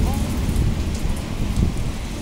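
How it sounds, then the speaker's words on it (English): Steady, dense rain patters heavily on a surface nearby, with a continuous noisy wash throughout. "Rain, it's raining."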